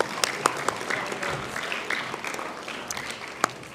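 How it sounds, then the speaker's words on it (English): Applause from an audience at a primary school mental maths competition, a steady patter of clapping lasting several seconds with a few sharper claps standing out, moderately loud and fairly close. "Let's give them a round of applause."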